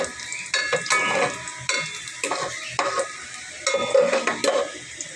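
Garlic sizzles in hot oil in a pan while a utensil stirs and scrapes it in repeated close bursts, with no talking.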